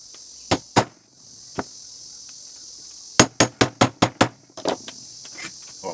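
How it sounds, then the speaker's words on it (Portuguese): A hammer taps an iron rod to seat a bearing inside a fan: a few separate sharp metallic knocks, then a quick run of six ringing strikes and softer taps after, over a faint steady hiss. "Agora eu vou vindo umas marteladinhas."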